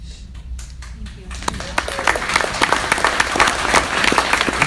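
An audience bursts into applause after a few scattered early claps, swelling into dense, steady clapping from a sizable crowd that continues to the end.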